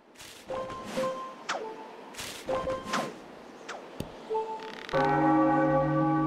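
Bell rung with a whip-like rope in the video game The Legend of Zelda: The Wind Waker HD, several swishing lashes with sharp metallic strikes, ending in a sustained resonant bell tone, no speech.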